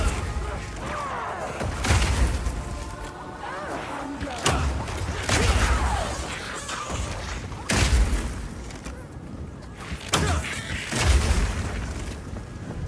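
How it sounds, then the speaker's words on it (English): Large incendiary arrow blasts from the Power Shot skill in Path of Exile 2, a Mercenary-class demo, booming repeatedly at distance, several heavy broadband explosions with crackling fire layered over a busy game soundtrack. "the incendiary version of Power Shot is more like a rocket launcher. It does a big explosive blast at a distance"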